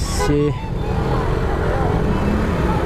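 Steady road traffic noise in the Philippines, heard by a Move It motorcycle taxi rider, with a continuous low engine rumble, a brief horn-like toot near the start, and nearby voices.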